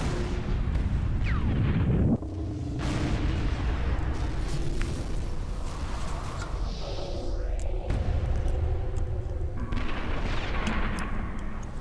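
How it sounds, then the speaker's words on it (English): Explosions and rumbling blasts in the Sniper Elite V2 video game, a loud continuous barrage of booms and crackling debris with several sharp bursts across the stretch, no talking over it. "why is one explosion causing that much damage simultaneously?"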